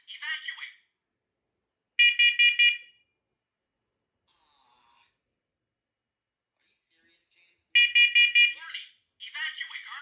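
A First Alert SCO500 smoke and carbon monoxide alarm sounds loud, close bursts of piercing tonal beeping, with short spoken-like chirps between them and near silence in the middle.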